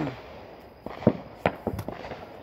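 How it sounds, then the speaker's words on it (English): Fireworks crack and pop in a quick irregular series of sharp bursts at moderate distance, with quieter gaps between the louder reports. "Can we get some more fireworks, please?"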